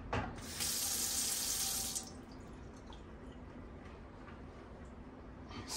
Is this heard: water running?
yes